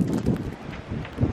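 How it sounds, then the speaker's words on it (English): Gusty wind buffets the microphone in uneven surges outdoors by a horse's field, a low rumbling roar that rises and falls across the short stretch with no voices. "it is super windy"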